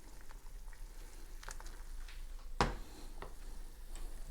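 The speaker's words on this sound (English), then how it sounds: "we're boiling now, so we can take the lid off" Chicken parmigiana sauce bubbles in an uncovered pot just after being stirred, a faint, steady crackling simmer with one sharp clink partway through and no voices.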